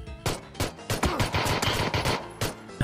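Rapid video-game pistol shots crack out in a quick irregular string of sharp bursts, loud and close, during a pistol round in a tactical shooter, with no talking.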